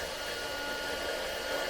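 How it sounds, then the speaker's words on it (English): A Leister Nexheat 300 cordless hot air welder blows a steady, even rushing hiss of heated air while welding, constant and close with no breaks or talking. "It's welding down nicely in there on that position."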